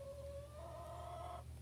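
Chickens in a nesting box give one sustained, drawn-out call that rises slightly in pitch over a low steady hum, quiet and close.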